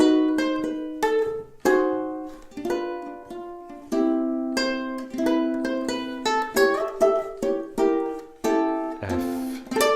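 Ukulele plays a song at full tempo, a steady strummed and plucked chord melody with clear harmonic notes, close and moderately loud, no voices.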